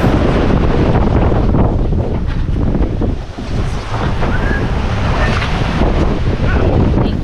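Strong wind buffets the microphone over the rush of big seas on a sailboat running offshore near Costa Rica at around 9 to 10 knots, a loud, constant roar with one brief dip.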